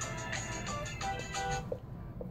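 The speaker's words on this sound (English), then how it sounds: "Got my phone ringing just in time" A phone ringtone plays during a radio station interview. A repeating melodic electronic pattern sounds for about a second and a half, then stops, leaving quiet room tone.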